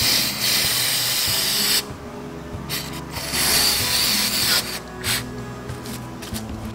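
Cleaner sprayed onto the chain of a 2022 Kawasaki ZX6R motorcycle: a loud, steady aerosol hiss for nearly two seconds, then shorter spray bursts mixed with mechanical clicks and rubbing, close up and without talk.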